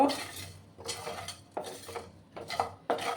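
A utensil scrapes and clinks against a pan while stirring during dry roasting, several short scraping strokes in an irregular rhythm, close and fairly quiet, with no talk.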